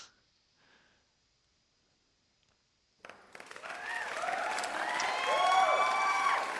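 Applause with cheering and whistles from an audience, starting suddenly after near silence and building into steady clapping and whoops that continue to the end.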